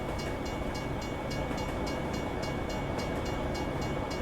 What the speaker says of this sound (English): Listen to this freight train go by.